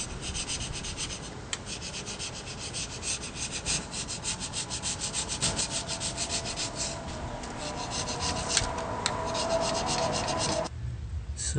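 A Ford 429 cylinder head from a 1961 F100 being hand-sanded with a 2000 grit flat sponge, a continuous close rhythmic rubbing and scraping that runs steadily before stopping near the end.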